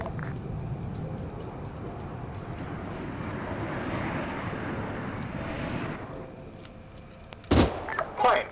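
A fixed-wing aircraft roars past in the Ace Combat video game, a broad, steady engine rush that builds and fades, followed by a couple of sharp impact-like thumps.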